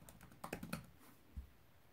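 A few quick key presses as a password is typed on a Mac keyboard, soft close clicks clustered in a brief burst, then one duller tap, with no talking.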